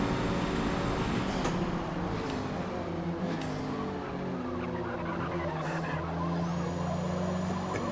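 Mazda 323 racing around Mugello in Forza Motorsport, its engine droning steadily throughout with sustained harmonic tone and brief tire-squeal streaks, loud and continuous without any voice.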